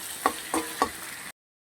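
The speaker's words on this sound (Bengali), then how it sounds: "পেঁয়াজের সঙ্গে ভালো করে ভেজে নেব" Ginger paste frying with onions in a pan for a chicken dish, a brief low sizzle with three quick stirring scrapes before it cuts off to silence.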